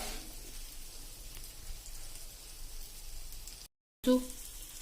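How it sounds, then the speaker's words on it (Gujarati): Pav buns toasting in butter on a hot tawa beside masala, a soft steady sizzle with faint crackle, quiet and close, cut by a brief silent gap near the end. "એમાં જ આપણે બટર મૂકીને પાવ શેકી લેશું"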